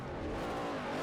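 A V8 supercar engine in Forza Motorsport 4 holds a steady, loud mechanical roar for about a second, with no clear rise or fall in pitch.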